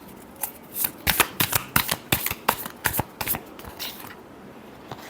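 Tarot cards shuffled by hand for a Scorpio reading: a run of quick, crisp riffling bursts that build to a dense flurry near the middle, then thin out and fade, with no talking.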